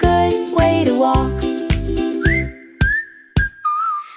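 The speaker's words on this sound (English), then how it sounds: "Whistling down Cherry Lane is just a good way to walk." A whistled tune sounds clear and close over rhythmic pulsing accompaniment in a sunny retro pop track, with bright sustained notes gliding between pitches.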